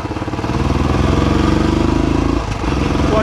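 A Royal Enfield Classic 350 BS6 with alloy wheels, dual-channel ABS, runs through a braking test, its single-cylinder thump loud and close, revving steadily before dropping sharply as it slows, then settling back into a throbbing idle.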